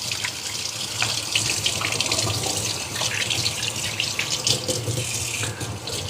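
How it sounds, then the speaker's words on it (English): A kitchen tap runs steadily as hands are washed under the stream, a continuous close splashing hiss with small fluctuations, with no talking. "Just wash my hands up."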